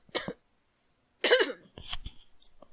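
A person coughs in two separate bursts, a short pair of close, sharp coughs followed after a pause by a longer, harsher cough, with faint murmuring afterward.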